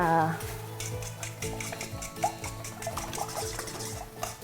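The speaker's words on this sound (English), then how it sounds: "whisk these together a little bit" A dozen eggs being whisked in a bowl for an egg bake, rapid rhythmic clicking and tapping of the whisk against the bowl, close and moderately loud, with a faint tonal background hum and no talking over it.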